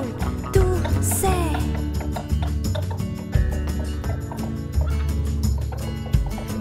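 A hen clucks and squawks amid a busy musical backing in a story of Jack and the giant, the bird calls sliding and sharp over rhythmic percussive hits.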